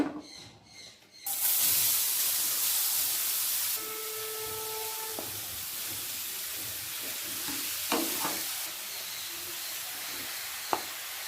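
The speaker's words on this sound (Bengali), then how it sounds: "ঘিয়ের সাথে ভালো করে মিশিয়ে নেব গাজরটাকে" Grated carrot stirred into melted ghee in a pan gives a steady, moderately loud sizzle, with occasional soft scrapes and taps of a spoon.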